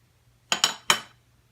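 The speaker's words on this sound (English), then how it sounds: "So I'm going to mix all of the dry ingredients first." Dry waffle batter ingredients being mixed in a bowl: three quick, bright clinks of a utensil striking the bowl in close succession, close up, with near silence around them.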